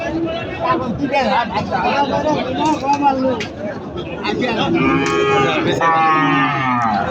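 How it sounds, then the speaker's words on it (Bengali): A Sahiwal calf at a busy cattle market, Chandaikona in northern Bangladesh, gives drawn-out, loud moos over a constant hubbub of crowd chatter and nearby voices. "এটা শাহিয়াল বাছুর নাকি?"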